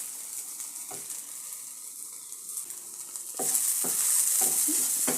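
Okra stirred in a pan with turmeric powder and chili flakes, soft sizzling with scattered scraping stir strokes that grow brighter and more hissing partway through, close and unvoiced.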